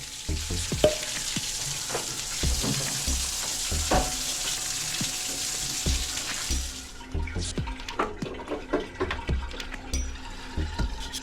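Tap water runs steadily into a drain pipe during a Korean drain-cleaning job, a dense hissing rush that cuts off partway, leaving scattered clanks, drips and handling noises.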